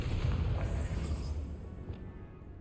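In the video game Hogwarts Legacy, a Bombarda blasting spell goes off in a deep, rumbling explosion that starts loud and fades slowly over a couple of seconds, heard alone without talking.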